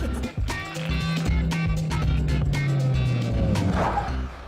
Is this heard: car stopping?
yes